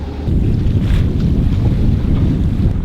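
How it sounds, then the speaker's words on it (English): Sailing yacht motor sailing between islands, a steady low engine drone mixed with heavy wind buffeting and rushing water along the hull, loud and continuous. "we're motor sailing"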